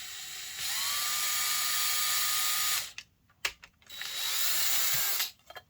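A handheld power drill bores a small pilot hole in thin plastic of a slot car body, whining in two high, steady bursts with short clicks and pauses between them.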